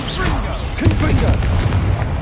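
A Confringo fire spell bursts in Hogwarts Legacy: one heavy, booming blast near the start, then a rumbling roar that carries on under a speaking voice.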